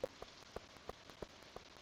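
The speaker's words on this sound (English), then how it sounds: "the weather has been miserable for the last few days. Just constant rain." Rain in the farming game Stardew Valley: a steady, faint wash of rainfall with soft, regular patters of drops landing on a surface, heard alone.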